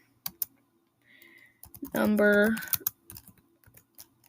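Typing Python code on a computer keyboard, a quick run of soft clicks and taps at close range, heard under and between a man's speech.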